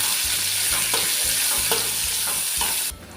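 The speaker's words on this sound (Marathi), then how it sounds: "मी घालते कांदा बारीक असा कांदा आपण चिरून घेतलेला आहे तो फोडणीसाठी घालूया आणि परतवून घेऊया" Finely chopped onion sizzles in hot tempering oil as it is sautéed for a bottle gourd and peanut amti, a close, steady fry with rhythmic stirring scrapes every half second before the sound suddenly drops away.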